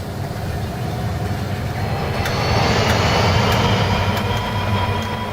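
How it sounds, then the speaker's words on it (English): Trains rumble and clatter steadily in a video game, a continuous low rolling noise with faint high squeals, growing slightly louder midway and holding without talk. "There's so many trains moving in so many places!"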